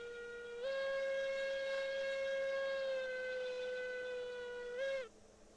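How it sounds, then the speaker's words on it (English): A single-chime steam locomotive whistle from the video game Railroads Online gives one loud, sustained, tonal blast lasting about four seconds, with a slight pitch dip near the end before cutting off. "Single chime whistle."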